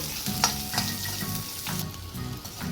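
Green chillies frying in a pan as a side dish, a strong close sizzle with rhythmic stirring scrapes repeating every fraction of a second.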